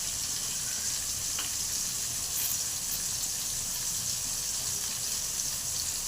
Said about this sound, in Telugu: ఈ టమాటా ఈ ఆనియను బాగా మగ్గనిద్దాం, గుజ్జు వచ్చిందాక